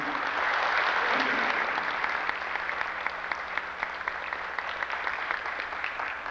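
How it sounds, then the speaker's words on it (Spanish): An audience at a tribute event applauds a speaker in a hall, sustained clapping that swells early and then settles into steady, scattered claps, with a faint voice at the start. "Un fuerte aplauso"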